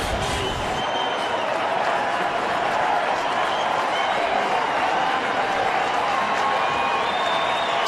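A large baseball stadium crowd at a 2009 Tigers game cheers and claps steadily for the pitcher Jackson, a dense, sustained roar of applause throughout.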